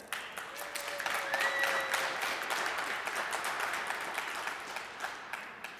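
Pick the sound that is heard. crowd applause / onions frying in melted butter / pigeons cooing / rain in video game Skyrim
crowd applause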